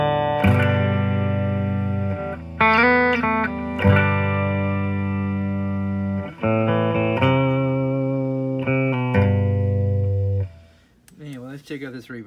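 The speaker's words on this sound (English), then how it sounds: "you throw that little preamp pedal in front of it and you've got this" Electric guitar chords through a preamp pedal ring out with a thick, overdriven tone, sustained and bright, changing several times before a brief wavering tail at the end.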